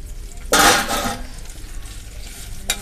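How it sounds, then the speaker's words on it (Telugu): Dried red chillies hit hot oil in a pan for garlic chilli powder, giving a sudden loud sizzle that slowly fades, with a short stirring scrape near the end. "మిరపకాయలు వేస్తున్నా."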